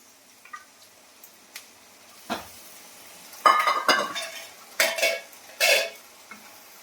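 Chopped capsicum is stirred in a frying pan, with scattered spatula clinks and scrapes against the metal that grow louder and busier toward the end over a faint sizzle.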